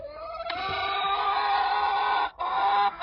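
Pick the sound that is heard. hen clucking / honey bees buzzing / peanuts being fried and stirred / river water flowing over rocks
hen clucking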